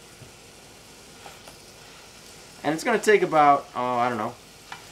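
Three frozen sausage patties fry in a hot pan for a breakfast sandwich, giving a steady, soft sizzling hiss throughout, with a person speaking over it midway.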